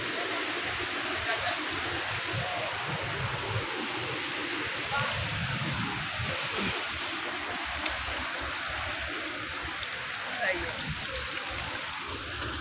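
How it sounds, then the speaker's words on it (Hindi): Water pours down from the mountain at Vindam Falls in Mirzapur, Uttar Pradesh, a steady broad rushing hiss that is close and continuous, with someone talking over it. "देखिए कितने अच्छे पहाड़ से पानी निकल रहे हैं।"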